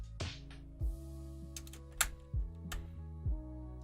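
Textured Corsair keycaps are pressed onto the stems of an Ajazz AK33 mechanical keyboard, each one landing with a crisp plastic click, about five spaced snaps, close and quiet.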